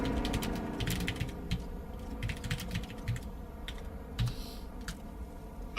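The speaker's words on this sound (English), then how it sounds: "I'm just typing to him in the proximity chat." Steady clicking of computer keyboard keys during a Dune: Awakening game session, with rapid, close keystrokes in uneven bursts and short pauses, with no talking.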